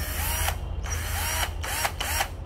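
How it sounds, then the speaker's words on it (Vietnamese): A used Japanese 10.8 V cordless battery drill with a 10 mm chuck whirs steadily at close range, its speed shifting a few times as the trigger is eased and squeezed. "Cây này cây khoan ha các bạn."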